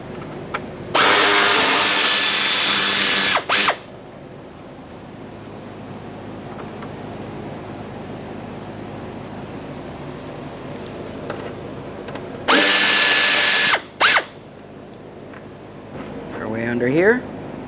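A power tool buzzes loudly in two separate bursts of about two and three seconds, backing Phillips head screws out of a mud flap in the wheel well of a 1992–1996 Toyota Camry, with quiet background between.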